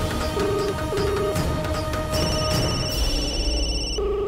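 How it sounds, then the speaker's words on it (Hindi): A telephone rings in a household scene with repeated electronic ring bursts in a steady rhythm over a continuous background of music and ambience, with no talking. "रिंग तो बज रही है पर फोन क्यों नहीं उठा रहा है कोई।"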